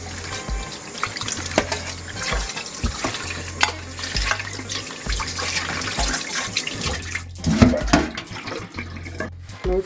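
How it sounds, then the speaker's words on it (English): Turkey meat rinsed of vinegar and salt under a running kitchen tap, a steady close splashing water stream with handling noises and low hum throughout, no talking. "Now we're going to rinse the vinegar and salt from our meat."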